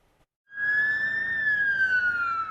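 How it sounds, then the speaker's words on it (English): After a brief silence, a loud emergency siren begins wailing, a sustained high tone that slowly falls in pitch and stays close. "sirens screeched towards the scene"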